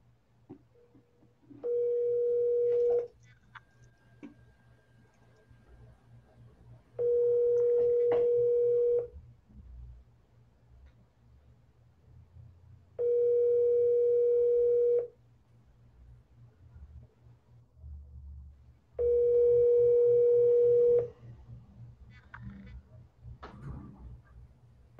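Telephone ringback tone during a double-dialed sales call, four long steady tonal bursts separated by gaps of quiet, clear and moderately loud over a low background hum.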